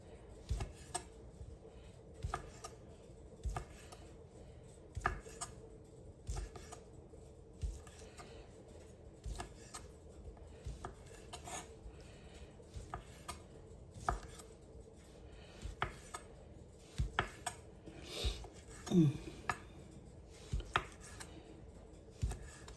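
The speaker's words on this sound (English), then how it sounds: "So we're going to cut this in just little rings." A knife slices a vegetable into thin rings on a cutting board, sharp chopping taps repeating at an uneven pace throughout, close and clear, with a brief scrape near the end.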